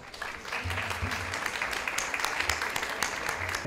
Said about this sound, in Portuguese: Aplausos para o Dr. José Roberto Barcos Martinez